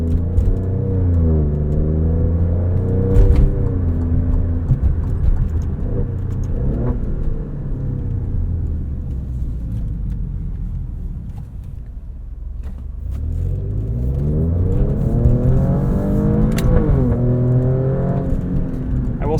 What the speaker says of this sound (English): Oh, and this V6 just sings a wonderful melody.